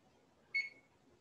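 A kitchen timer gives a single short, fairly clear electronic beep over a quiet stovetop background while milk comes to a boil during cooking.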